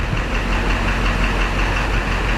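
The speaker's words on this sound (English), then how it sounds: "you should be able to hear that engine coming up" A 2005 Duramax diesel engine under injector flow testing, running as a steady, loud, continuous low drone with a knocking diesel texture and no speech over it.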